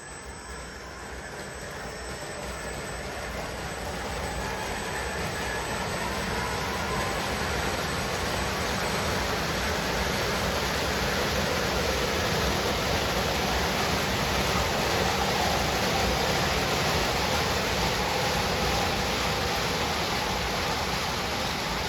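3D printed model train set pulling more than 30 cars, a steady rolling rumble and rail hiss that gradually builds in loudness and then holds constant, with no talking.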